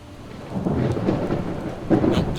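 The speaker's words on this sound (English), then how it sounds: "And it sounds like the rain is not subsiding." Rain and rumbling thunder in the Project Zomboid video game, a steady wash of rain with a low rolling swell that builds toward the end, heard alone.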